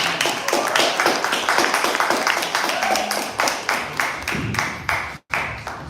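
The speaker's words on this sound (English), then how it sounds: "Give her a round of applause." Audience applause for a poet at a poetry festival in Paterson, a short burst of clapping from a modest crowd with a brief dropout near the end.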